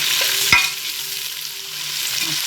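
Onions fry and are stirred in a pan for Tamil kuska rice, a loud close sizzle with a sharp clank of a spoon against the pan partway through, with no talking.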